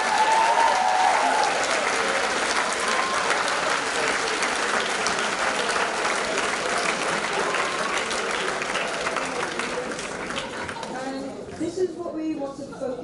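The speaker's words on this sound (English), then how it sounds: "give yourself a round of applause" A school assembly audience applauds at a student council Wacky Week event, a dense, steady wash of clapping that holds strong for most of the stretch before thinning and fading near the end.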